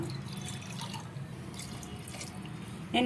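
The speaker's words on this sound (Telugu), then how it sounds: "3 గ్లాసులు నీళ్ళు వేస్తున్నానండి." Three glasses of water splashing and trickling into a pot for chicken mandi, a fairly quiet pour with dripping sounds and a brief louder clatter at the end.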